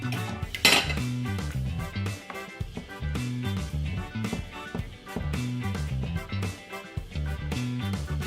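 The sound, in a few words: mixing sugar into cornmeal porridge with a spoon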